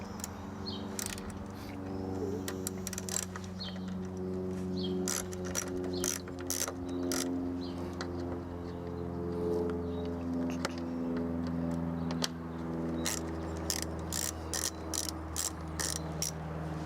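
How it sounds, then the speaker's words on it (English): A ratcheting tool backs out T20 Torx screws from a car's mass airflow sensor, giving rapid, close clicking runs that repeat in bursts over a steady low engine-bay hum. "This particular model uses Torx screws. It's a T20. So we're just going to go ahead and take those out."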